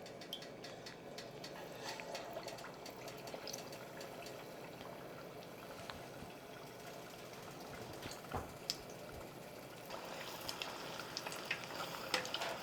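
Chicken and fish fry in peanut oil with a steady, fairly faint sizzle and crackle that runs throughout, joined by occasional soft pops and clicks toward the end.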